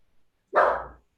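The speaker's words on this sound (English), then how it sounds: "And excuse my dog." A single close, loud dog bark in a quiet room, short and full with no other sound around it.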